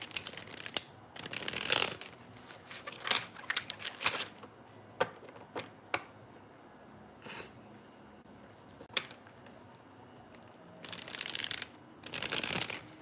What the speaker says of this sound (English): now I'm going to shuffle up your oracle cards